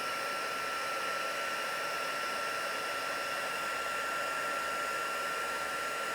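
A heat tool melting embossing powder on a card, with a continuous, even blowing whir like a hair dryer, close and steady throughout with no talking.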